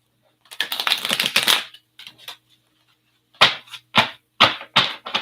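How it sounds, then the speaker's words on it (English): Tarot cards get a brisk shuffle at a live reading table, one long riffling burst followed by a few short, sharp snapping bursts separated by silence, close and crisp. "Should give these cards a good shuffle"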